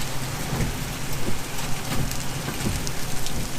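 A thunderstorm with heavy rain and hail batters a car at night in Tornado Alley, a steady loud roar of rain with rapid hard hail strikes scattered throughout, no one speaking.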